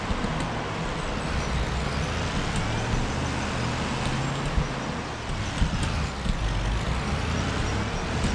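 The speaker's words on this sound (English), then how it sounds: "We've loaded it up onto a truck, but I think I'm just gonna drive it over here to my small kiosk" A truck drives along in Farming Simulator 25 with a steady, dense engine and road rumble, continuous and close, with faint clicks and rattles over it and no talk.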